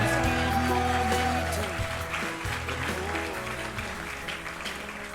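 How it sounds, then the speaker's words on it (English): Wedding guests clap and cheer for the bride and her father on the dance floor, a steady crowd applause over loud music with tonal notes, fading slightly across the stretch. "round of applause for our bride and dad"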